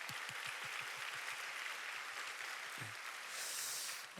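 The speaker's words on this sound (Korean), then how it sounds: "우리 박수하겠습니다" A church congregation claps in a quick, fairly even rhythm that blurs into a soft wash of applause, heard at a moderate distance and fading toward the end.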